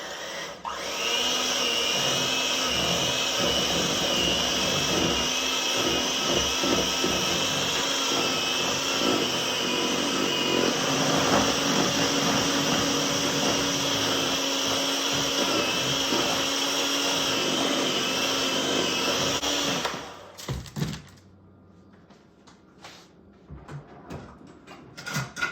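An electric mixer whips a chilled homemade lip balm and lotion mixture, giving a loud, steady motor whir for about twenty seconds before it cuts off, followed by faint clatter.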